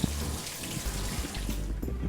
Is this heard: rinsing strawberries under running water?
yes